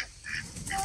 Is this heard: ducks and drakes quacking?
yes